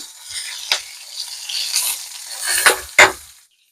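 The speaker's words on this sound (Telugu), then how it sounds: "ఇలా మనము పచ్చిమిర్చితో పాటు ఇవి కూడా వేయించుకోవాలి" Green chillies fry in a pan with a soft, close sizzle and a few sharp scrapes of a spatula against the metal, tapering to silence at the end.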